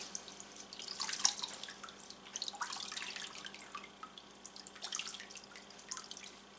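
Water dripping and trickling from a squeezed wet Bluefaced Leicester wool fleece lifted out of a scouring bath, a faint, scattered patter of drops that comes in a few brief bursts over quiet background.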